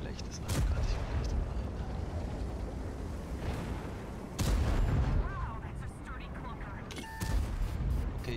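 Tank cannon shots in World of Tanks, with TNH and E75 tanks on the Fischerbucht map: a few loud, booming blasts spaced seconds apart over a constant rumbling game backdrop.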